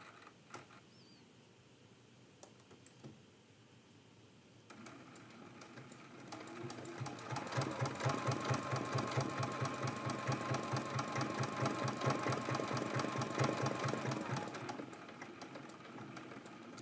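A sewing machine stitching out a quilt-as-you-go quilt block, its needle running at a rapid, steady mechanical rhythm that builds up after a quieter start and holds close and loud for several seconds.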